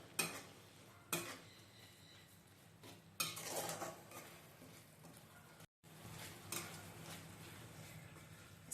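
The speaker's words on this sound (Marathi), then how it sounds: "आणि आता छान मिक्स करून घ्या हे पूर्ण." Chicken with chopped green chilli and coriander being stirred in a pan for Thai kapow, a spatula scraping and clinking against the metal in several distinct bursts with a faint sizzle beneath, no talking.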